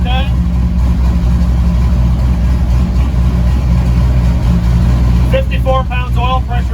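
A twin-turbo LS-powered Chevy pickup suffering misfires idles with a steady, loud, low engine rumble, and a voice is heard briefly near the end.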